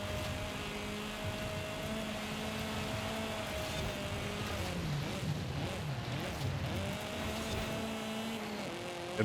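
Off-road cars and trucks race in Forza Horizon 5, steady engine drone with shifting pitch and tone, loud and continuous throughout with tire and surface noise layered beneath.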